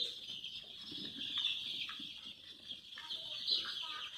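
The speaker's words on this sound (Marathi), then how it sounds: "हे सगळे पिल्ल 1000 पिल्ल आहेत." A dense chorus of high peeping from about a thousand chicks on a poultry farm, continuous and close, with faint low voice-like murmurs beneath.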